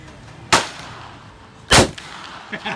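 Two loud, close gunshots at an outdoor shooting range using a Pyrodex powder load, each a sharp blast with a short decaying boom, about a second apart, followed by fainter knocks.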